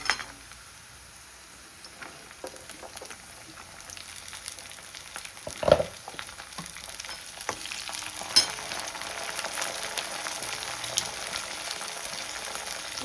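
Green chillies go into hot oil with onion, garlic, cumin and mustard seeds, a steady close sizzle that grows slightly louder, punctuated by a couple of stirring knocks and scrapes, with no voices.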